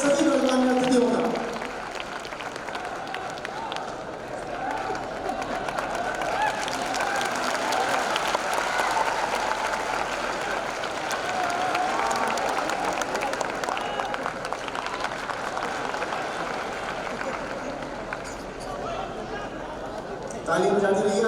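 An audience at a public speaking event welcomes guests with sustained, dense applause, a broad roar of clapping that swells and holds for about twenty seconds, with a few voices mixed in.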